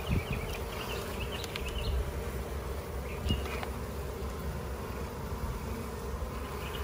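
Honey bees buzzing in a dense, continuous drone at a long Langstroth hive outdoors, with scattered individual insects passing close by.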